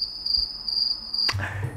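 A cricket chirping sound effect, used as comic silence after a joke falls flat, gives a steady, close, high-pitched trill for about a second before cutting off into other noise.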